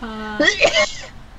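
One sharp human sneeze bursts out after a sustained tonal sound, close and loud, with a quiet room afterward.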